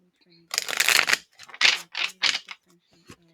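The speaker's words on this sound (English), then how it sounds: "let me quickly just shuffle, just do one quick final shuffle on each one of these decks" Tarot and oracle card decks being shuffled up close, several quick riffling bursts separated by short pauses, crisp and papery against a faint background hum.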